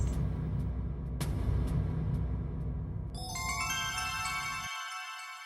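A cheerful mobile phone ringtone chimes in bright, repeating electronic tones, starting over a low rumbling background noise that soon drops away to leave the ringing alone, loud and close in a home sitcom scene.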